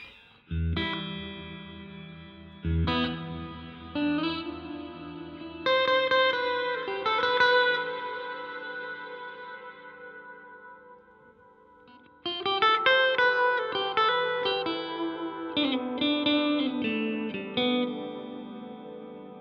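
Electric guitar notes and chords ringing out through heavy delay and reverb, repeats trailing into a wash, with a brief quiet gap before playing resumes brighter.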